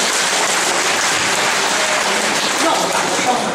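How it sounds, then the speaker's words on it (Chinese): Dense, steady applause from a live audience at a Kuaiban comic performance in Beijing's Huguang Guild Hall, a continuous loud wash of clapping. "感谢大家热烈的掌声"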